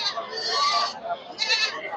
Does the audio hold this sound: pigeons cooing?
no